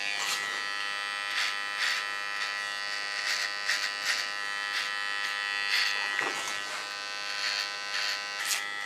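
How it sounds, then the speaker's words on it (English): A small electric hair clipper buzzes steadily and close up while sharpening a hairline, its constant high whine pulsing slightly as the blade moves along the edge, with no talk. "small well clipper, I'm going to sharpen the line. This clipper is specially made for this kind of work."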